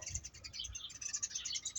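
Sparrows chirp rapidly in a garden, a faint, busy chatter of continuous high twittering with no voices.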